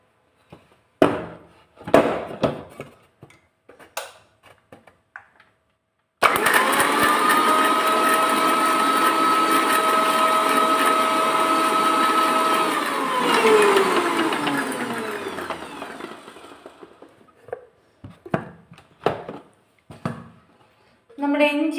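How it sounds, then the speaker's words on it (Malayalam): A V-Guard mixer grinder crushes garlic and ginger with a loud, steady whirring whine that runs for several seconds, then winds down in falling pitch. Scattered clatter and talk come before and after. "മിക്സിയിലോട്ടിട്ട് നമ്മുടെ വെളുത്തുള്ളി, ഇഞ്ചി ചതച്ചെടുക്കാവേ"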